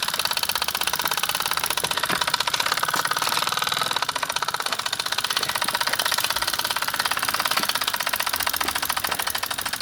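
A Mamod SA1 toy steam car's small engine running under restoration, its piston chugging in a fast, steady, even beat with a rattling mechanical buzz, close and continuous throughout, no speech.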